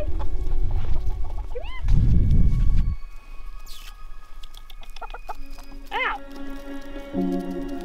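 Several chickens cluck and squawk nearby in short bursts, with a brief rustling thump partway through, outdoors in freezing winter weather on a homestead, in a steady background.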